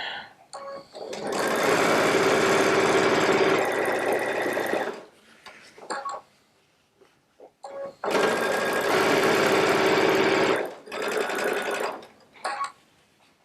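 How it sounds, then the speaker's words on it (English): A Baby Lock Solaris sewing machine runs a seam in two long, loud, close bursts of fast even stitching, separated by a quiet gap with faint handling clicks and shorter stops near the end. "I'm going to baby this along because I think there's enough bobbin thread in that bobbin to finish this one seam."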